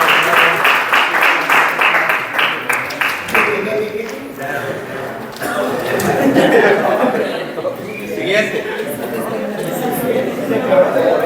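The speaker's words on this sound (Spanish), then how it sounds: "Denle un aplauso al Señor, por favor." A church congregation breaks into applause, starting with a few sharp, rhythmic claps that swell into a steady wash of clapping mixed with chatter and some light laughter, lasting several seconds.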